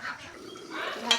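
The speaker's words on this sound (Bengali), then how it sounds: "ঢাকনাটা খুললাম" A lid lifted off a pot of braising curry in a home kitchen gives one brief, faint metallic clink near the end over a soft, murmuring background.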